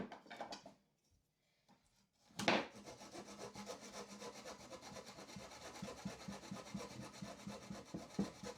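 Sanding on wooden 2x4 chair frames makes a steady, close scratchy rubbing that starts with a few short strokes, pauses briefly, then settles into continuous back-and-forth friction.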